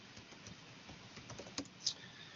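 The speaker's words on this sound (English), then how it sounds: "I'm typing it." Typing on a computer keyboard, quick scattered key clicks at moderate distance with a couple of sharper louder taps near the end, fairly quiet overall.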